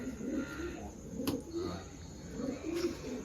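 Pigeons coo nearby in low, throaty bursts, rising and falling in a loose rhythm, with a couple of sharp clicks in between.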